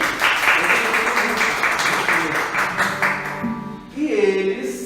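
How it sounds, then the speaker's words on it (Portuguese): Audience applause at a Catholic parish catechetical ministry gathering for Nossa Senhora do Carmo, a steady broadband wash of many hands that thins out near the end before voices take over. "Vamos dar uma salva de palmas para eles?"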